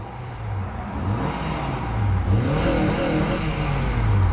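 A 2004 Acura TSX with the i-VTEC engine revs up from idle, the tone climbing and falling in smooth repeated pulls, close and fairly loud with no talk over it.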